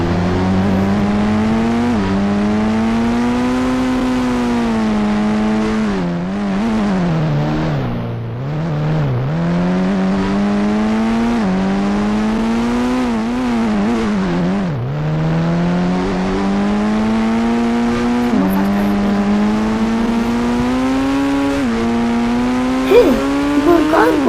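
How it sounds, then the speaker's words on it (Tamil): A car engine in a mobile racing video game drones and revs steadily, its pitch rising and dipping through gear changes, loud and up close, with someone talking over it. "இப்போ ஒரு கார் போச்சுங்க, செம்மையாக இருந்துச்சு."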